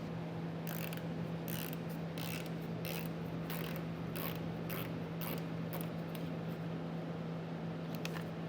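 A T15 Torx fastener is unscrewed on a 2022 Cadillac XT6 during a trailer hitch install. Faint, quick ratcheting clicks come in short bursts over a low steady hum.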